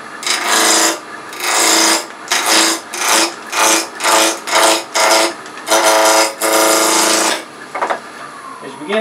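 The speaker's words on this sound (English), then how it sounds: "I'm still using an old Harbor Freight spindle roughing gouge." An old Harbor Freight spindle roughing gouge cutting wood on a spinning lathe, loud close rhythmic scraping strokes in repeated bursts about a second apart, ending in a longer sustained cut.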